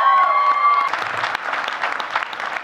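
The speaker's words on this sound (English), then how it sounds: "give her a huge round of applause" A crowd at a March For Our Lives rally in Polk bursts into steady applause, with a few sustained cheering voices over the clapping at the start before dense clapping carries on.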